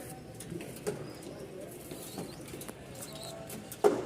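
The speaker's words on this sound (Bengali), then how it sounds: "এখানে হচ্ছে মোট 2 জোড়া কবুতর" Giribaz pigeons at a pigeon market in Mirpur-1, Dhaka, give quiet, low coos amid faint background murmur, with a brief sharp sound near the end.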